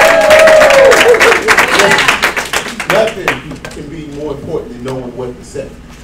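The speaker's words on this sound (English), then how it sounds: "let's give Shay another round of applause." A crowd applauds loudly at first, the clapping thinning and fading over several seconds as a voice begins speaking over it.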